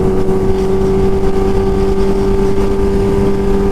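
Kawasaki Ninja H2 supercharged motorcycle engine droning at a steady high rev, close and loud, a constant buzzy tone with no speech.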